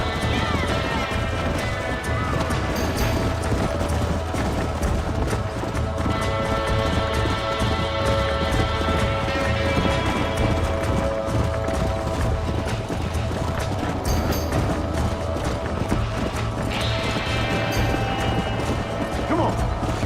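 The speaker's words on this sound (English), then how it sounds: "Hey, the stallion's getting away! Chase him down!" A stallion gallops away in the Red Dead Redemption video game, with loud steady rapid hoofbeats running the whole time under game music, mechanical noise and a shouting voice.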